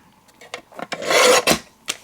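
A paper guillotine trimmer blade rasps through stiff cardstock with a scraping swish, preceded by faint rustles and small taps, close and fairly loud.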